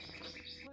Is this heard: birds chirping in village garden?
yes